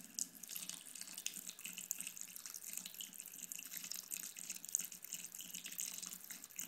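A running sink faucet streams steadily into a basin while a cat laps at the flow, a continuous close splashing hiss with no voices.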